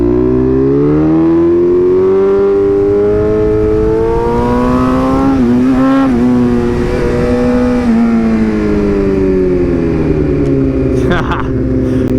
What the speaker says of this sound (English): Of course we got traffic now.